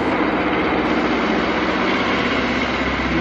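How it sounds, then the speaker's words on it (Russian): A tractor engine runs nearby outdoors, a steady continuous rumbling drone that stays loud and even throughout with no voices. "Блин, трактор этот"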